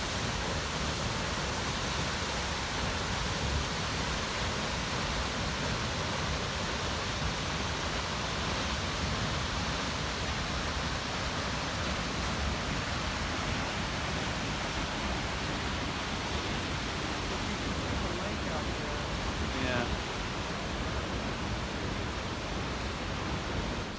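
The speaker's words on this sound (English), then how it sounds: "it's the highest waterfall in the state of Minnesota" High Falls, the tallest waterfall in Minnesota, pours in a steady, dense broadband roar that holds constant and loud throughout with no breaks or voices.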